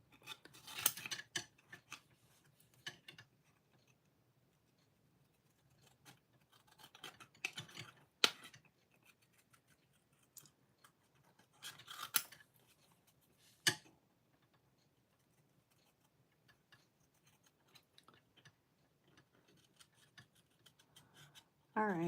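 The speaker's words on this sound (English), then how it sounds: "These are sharp scissors" Quiet, close snips of scissors cutting paper come in short crisp bursts separated by long pauses of near silence.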